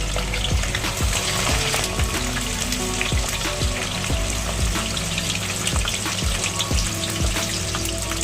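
Onions fry in hot oil in a pan, a steady dense sizzle heard up close and continuous, with faint crackles and no voices.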